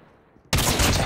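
A sniper rifle shot in Call of Duty Mobile cracks suddenly after near silence, a loud, close blast that rings out and holds to the end.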